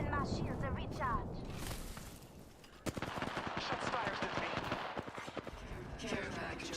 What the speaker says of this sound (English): Firing a frag.